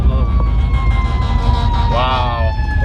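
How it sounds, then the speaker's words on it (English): A fire engine siren is heard as the truck passes on the road, its steady wailing tones running over loud traffic rumble, with a voice speaking briefly midway. "That's a proper fire engine."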